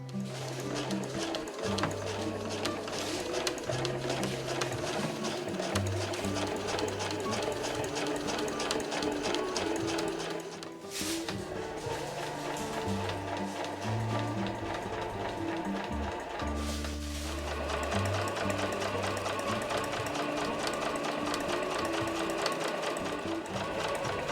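A sewing machine fitted with an overcast presser foot stitches the seam edge of a fur tote bag in a continuous fast mechanical chatter, pausing briefly twice, close and steady throughout.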